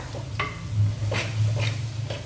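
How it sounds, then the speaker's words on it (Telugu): Onions with salt and chili frying in a pan as part of a tamarind-leaf and raw prawn curry, with a steady close sizzle and a few soft stirring scrapes over a low hum. "ఈ ఉల్లిపాయ ఉప్పు కారం వేసి కొంచెం వేగింది అనుకోండి"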